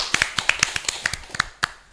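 A few people clap for a dance group at a university podcast, a sparse, uneven patter of sharp hand claps lasting about two seconds, close and fairly light.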